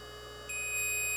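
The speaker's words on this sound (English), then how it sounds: "There's one beep, you gotta wait for another beep." A Kobra3 device gives a single thin electronic beep after a drive is inserted. The tone starts partway through and holds steady at a faint level over quiet background hum.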